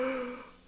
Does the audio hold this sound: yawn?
yes